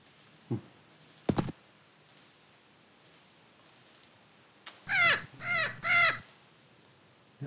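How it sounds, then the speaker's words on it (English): Birds cawing in the video game X-Com Files: three loud harsh caws in quick succession near the end, preceded by faint scattered clicks and taps over a quiet background. "There are some birds around."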